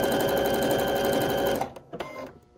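A Baby Lock overlock sewing machine runs a stitch close by with a steady whirring drone and rapid needle clatter for about a second and a half, then stops abruptly, leaving a few small clicks.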